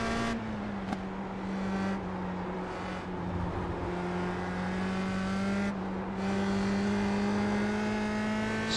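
A USF-2000 open-wheel race car in the iRacing simulator at Lime Rock Park drones at high revs, its engine note steady and buzzy with slight pitch shifts through gear changes, continuous and close with no talking.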